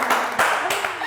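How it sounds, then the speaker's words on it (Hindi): An audience claps for a guest on a talk show, a brief burst of applause that swells in a couple of waves and fades, with some voices mixed in. "और बहुत जोरदार तालियां होनी चाहिए"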